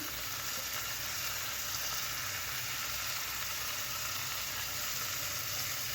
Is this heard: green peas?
yes